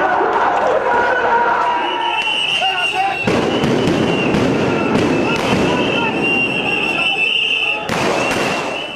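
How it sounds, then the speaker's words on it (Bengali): Loud, chaotic street clash between police and protesters, with repeated sharp bangs of gunfire and sound grenades over a dense, roaring crowd din that stays heavy throughout. "জবাবে আসে গুলি আর সাউন্ড গ্রেনেড।"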